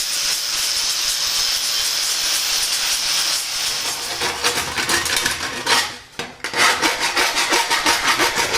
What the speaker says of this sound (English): So I'm going to get these cleaned up with the grinder first